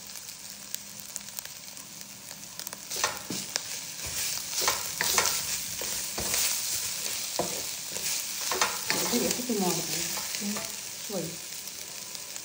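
Tomato paste fries in hot oil in a pan, a continuous crackling sizzle punctuated by stirring scrapes, with a brief spoken word.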